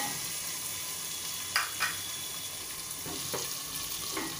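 Chopped onion frying in oil with green chili and curry leaves for masala dosa filling, a steady soft sizzle with a few sharp spatula scrapes and stirs against the pan, no talk.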